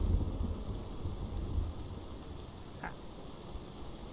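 Toxic rain falling in Dying Light 2, a steady hiss of rain with low rumbling like distant thunder, loudest at the start and easing slightly, with one brief higher tone partway through.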